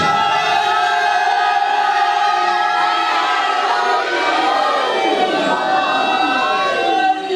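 Large crowd at a religious gathering in the Ghambir Syedan district near Islamabad, shouting a slogan in loud unison, with voices rising and falling in overlapping waves and steady chatter underneath.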